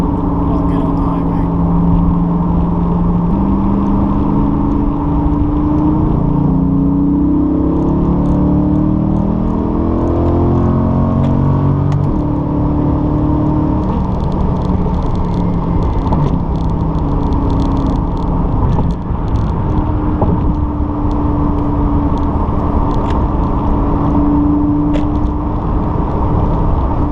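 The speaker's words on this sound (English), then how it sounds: "Let's do it with the valves closed so you can kind of hear how it sounds if you open it up while we get on the highway." A C8 Corvette with a Borla ATAK exhaust, valves closed, cruises onto the highway, giving a steady loud drone with engine tones stepping up through gear changes under constant road and cabin noise.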